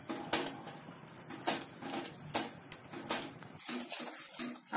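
Water is poured into a methi matar malai curry with fenugreek and peas, a steady splashing pour with small clinks from the pan, close and fairly quiet.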